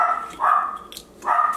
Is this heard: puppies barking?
yes